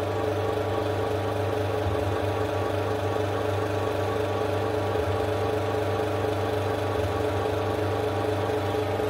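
A split-phase-connected induction motor running under increasing brake load gives a steady, unbroken hum and whir at even loudness throughout, with no voices.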